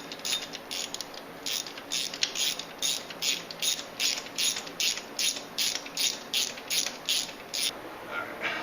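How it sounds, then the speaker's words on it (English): A ratchet wrench clicks steadily while loosening a spark plug from a Mazda 626 four-cylinder engine, a regular series of close, crisp pawl bursts repeating about once a second. "First step, get your spark plug out of there."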